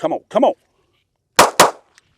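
A pistol fitted with a reflex dot sight fires at a target seven yards away, giving two sharp, loud shots in quick succession right after a brief burst of a voice.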